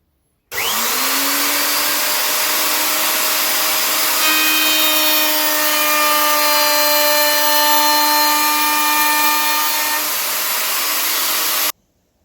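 Power tool cutting a 45-degree bevel along the underside of a wooden coffee table, a steady loud whine with sustained tonal pitch that starts abruptly, holds for about eleven seconds and cuts off, no talking.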